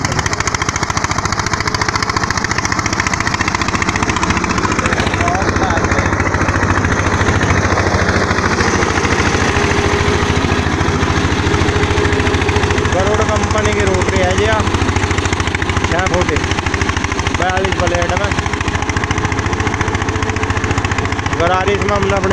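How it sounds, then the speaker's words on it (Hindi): An Eicher tractor with hydraulic pump and jack runs steadily under load, a continuous low, throbbing engine drone heard close throughout while someone talks over it. "गजब कर रखे ट्रैक्टर।"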